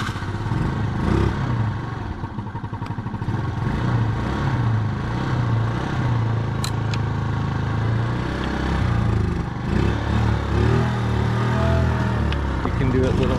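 An old scooter that has sat unused for a long while runs rough and struggles, its engine sputtering and clattering unevenly at close range while a person talks over it.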